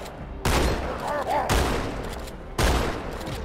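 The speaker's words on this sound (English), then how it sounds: "Three shotgun shells to put him down." Three heavy shotgun blasts in Halo 2: Anniversary, each a loud, close boom with a lingering tail, spaced roughly a second apart, no speech over them.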